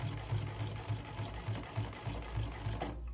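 Sewing machine stitching a leather patch onto a hat in a steady burst, its needle thumping in a regular quick rhythm, close and fairly loud, with no talking.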